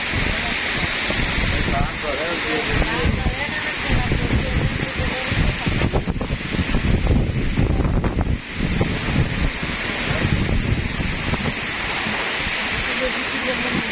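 Strong, gusty wind during a flood storm roars and buffets close to the microphone, surging and easing over the whole stretch with rustling underneath, and voices talk in the background.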